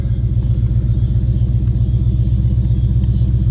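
A 2015-2017 Ford Mustang GT V8 idles close by, a loud deep throbbing rumble with a steady pulsing rhythm and nothing else heard.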